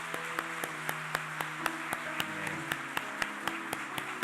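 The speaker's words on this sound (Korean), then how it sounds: "여러분 박수로 한번 또 응원해 주십시오." A church congregation at a Sunday service in Gwangju claps in steady rhythmic unison, with sharp regular beats over faint sustained organ or keyboard tones, moderately distant and alone without talk.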